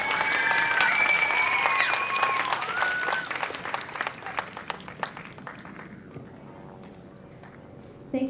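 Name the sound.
applause for the music teacher at a school band concert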